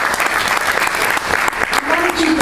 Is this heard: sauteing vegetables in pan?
no